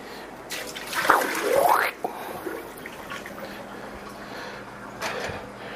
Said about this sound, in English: So I take it and I dump it out.